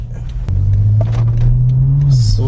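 A BMW sports car pulls away from a standstill, its engine a steady low drone that climbs slightly in pitch as it rolls off, with a sharp click near the start and faint voices in the background.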